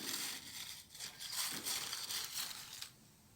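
Dry bay leaves tumbling into a mixing bowl of orange peel for homemade potpourri, a close, continuous crisp rustle and crunch lasting a few seconds, with no talking.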